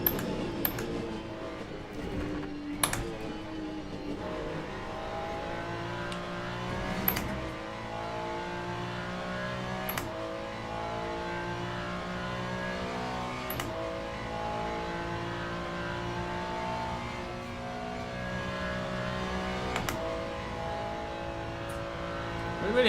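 Ferrari race car engine in Le Mans Ultimate, a loud, steady high-revving drone that climbs through repeated gear changes. Brief shifts and sharp clicks break the sustained engine note.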